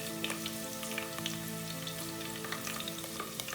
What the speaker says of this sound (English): So we put a little bit of onions in. We're gonna drop in just a little bit of thyme to start seasoning up just a little bit.